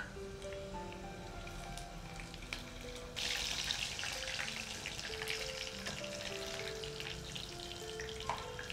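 Chicken 65 pieces frying in oil over low heat, a steady dense crackle and sizzle that swells louder partway through and keeps going with no talking.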